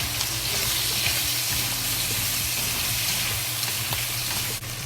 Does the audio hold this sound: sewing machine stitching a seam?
no